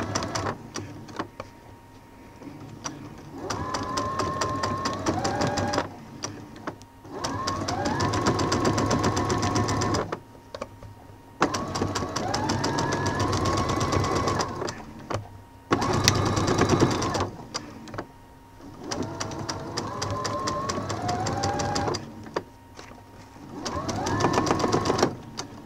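Sewing machine stitching a round fabric appliqué slowly along a traced line, running in several bursts of steady mechanical whirring separated by short pauses, close and loud, with someone talking over it.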